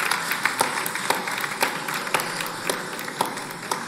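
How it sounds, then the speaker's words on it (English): Sparse clapping from an audience at a 10th anniversary concert salutes the lighting and video crew, with distinct individual claps popping over a soft, continuous wash of applause in a live hall. "Let's give them a round of applause as well."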